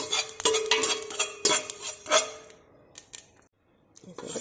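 Sesame seeds are stirred in a pan, with repeated scraping and clinking of a utensil against metal in irregular bursts, followed by quieter gaps and a final scrape.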